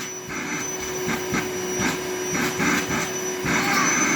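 A household vacuum cleaner hums loudly while sweeping a floor, its steady drone broken by rhythmic bumps and swishes as the nozzle moves back and forth. A voice is faintly audible underneath.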